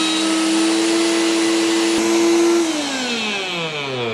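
A Chefman Obliterator blender motor starts up on frozen fruit, a loud steady whine that rises in pitch partway through as the motor speeds up, heard on its own without any talk.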